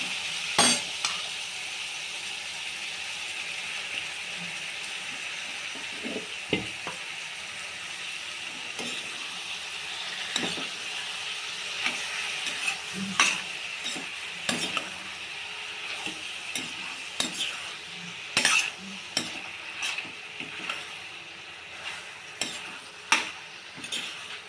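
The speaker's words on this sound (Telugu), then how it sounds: "చక్కగా నూనెలో ఉడకాలి బోటి." Goat tripe (boti) frying in oil in a pan, a continuous bubbling sizzle punctuated throughout by irregular scraping and tapping of a spoon as it is stirred.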